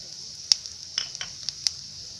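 Garlic, shallots and panko breadcrumbs stir-fried in a pan for fried rice with salted fish give a faint, steady sizzle, with a few light scrapes and clicks of stirring scattered through.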